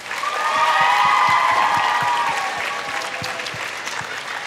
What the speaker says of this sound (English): can we get a huge round of applause for our contestants tonight?